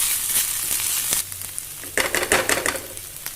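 Half a spoon of ginger garlic paste is mixed into browning onions in a frying pan: a steady hiss first, then a burst of louder crackling sizzle and quick scraping stirs, with no one speaking.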